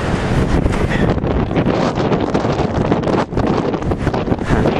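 Strong wind gusting across a high coastal hillside near Lipimávida in Chile's Maule region, a loud, continuous roar buffeting the microphone with a brief dip near the end.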